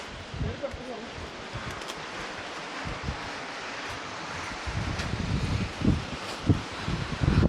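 Wind gusts through coconut trees in a rural Indian setting, a broad rustling hiss of fronds that surges and eases over several seconds, with muffled thumps and brief voices mixed in.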